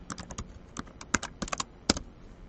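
Fast, close typing on a computer keyboard at a command prompt, a quick run of crisp clicking keystrokes with a couple of louder key strikes, no talking.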